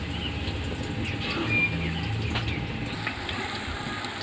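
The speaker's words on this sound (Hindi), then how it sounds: "प्याज थोड़ा सा फ्राई हो गया है, इसका कलर थोड़ा चेंज हो गया है" Onions sizzling and frying in a pan while cooking chicken karahi, a steady soft crackle with faint stirring, heard close with no talk.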